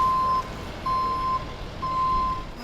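A tow truck clearing flood-damaged cars gives three evenly spaced reversing beeps, each a steady half-second tone over a low idling engine, moderately near and with no talk.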